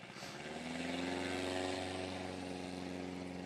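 Piper PA-18 Cub aircraft landing at a Rocky Mountain STOL competition, its propeller engine droning steadily and close, pitch shifting slightly as it settles down.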